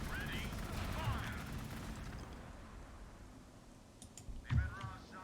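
Gunfire and explosive bursts from the strategy video game Gladius with Astra Militarum forces, a dense fusillade at the start and another loud burst near the end, with game voices and effects around it.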